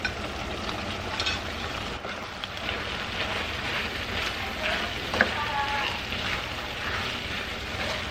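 Broccoli stirred into ground beef thickened with cornstarch, sizzling steadily in a pan, a close continuous crackle with scattered spatula scrapes and clicks throughout.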